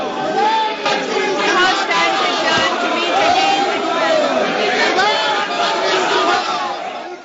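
Members of Parliament shouting in an uproar inside India's Lok Sabha, a dense, continuous crowd of raised voices and overlapping yelling that stays loud throughout.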